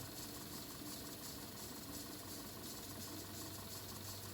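A VW Golf engine idles steadily and quietly with a faint continuous whirring hiss on top from a dry drive belt, an even drone with no talking.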